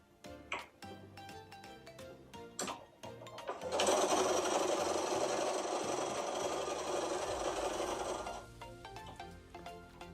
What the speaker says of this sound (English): we sew from in a diagonal